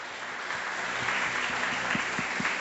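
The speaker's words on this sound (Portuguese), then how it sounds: "Vamos aplaudir Jesus em forte?" A church congregation claps for Jesus in a steady, even wash of applause that holds at moderate volume throughout, with a low sustained tone underneath and faint rhythmic thumps building toward the end.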